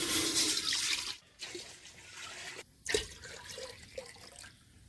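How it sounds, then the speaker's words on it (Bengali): Water pouring into a cooking pot on the stove, a splashing, gurgling stream that fades and returns with a few short splashes and drips, fairly faint. "আর হাঁড়িতে দেবো পরিমাণ মতো জল"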